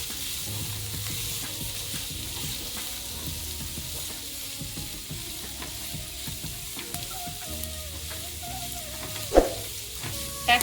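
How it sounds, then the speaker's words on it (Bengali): Ground cashew nuts frying with onions in a pan, a steady soft sizzle with occasional stirring scrapes and clinks, continuous and close, no talking. "ভালো করে এটাও পেঁয়াজের সাথে ভেজে নেব।"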